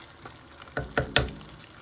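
Mung beans cooking in a pan for a pumpkin sesame ball filling give three sharp sizzling, stirring bursts close by over a soft hiss, with no talk.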